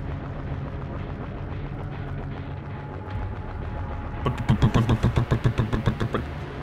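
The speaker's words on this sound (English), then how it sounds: "you have your car underwater and the exhaust pipe is underwater and you're like, your car is idle" A car idles with a steady low rumble, then a rapid string of loud bubbling pops from its exhaust pipe gurgling underwater, pulsing for a couple of seconds.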